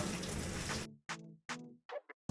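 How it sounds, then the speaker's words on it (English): Warm water poured from a cup to rinse a dog during a natural skin-care bath, a steady splashing pour that stops and then returns as a few short, separate splashes and trickles. "Water's nice and warm. We're gonna go ahead and rinse them."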